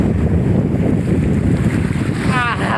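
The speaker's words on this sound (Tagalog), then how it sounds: "sobrang hangin talaga dito sa lugar na ito guys" Strong seaside wind buffets the microphone in a loud, steady roar, with surf and large waves mixed in; a voice briefly speaks near the end.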